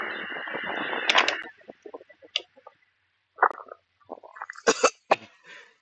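A man coughs harshly in a quiet setting: a long rough burst, then a few short scattered coughs and throaty sounds after a pause, close and fairly loud.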